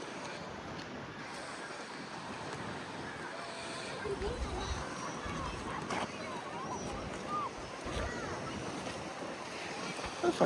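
Sea waves and wind on a beach in France, a continuous rushing wash with gusty wind buffeting the microphone and soft surf surges throughout.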